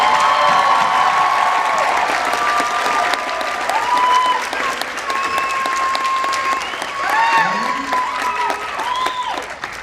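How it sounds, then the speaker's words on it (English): An audience at a school graduation ceremony bursts into sustained, loud applause with scattered cheers and whistles, the clapping dense and continuous throughout. "Let's give them a round of applause."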